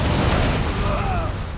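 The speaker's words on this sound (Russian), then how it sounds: "Жестко все взрывается, конечно." An explosion in the video game Dead Rising 3 fills the scene with a loud, dense, sustained roar and rumble that stays constant for over a second.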